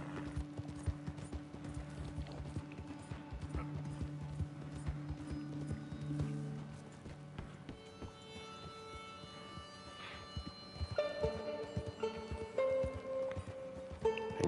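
Steady clip-clopping hooves trot along continuously over a Red Dead Redemption soundtrack with sustained musical tones.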